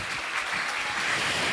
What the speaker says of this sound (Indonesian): Untuk menyemangat, beri tepuk tangan untuk Mas Reza.